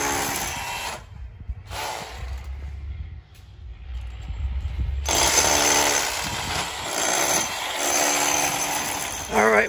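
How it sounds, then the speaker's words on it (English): A power drill bores a hole through a thick concrete block wall of a house, grinding loudly in bursts with quieter pauses between, then running harder and steadier in the second half. "we finally drilled out a very thick block wall here on the left side of the house"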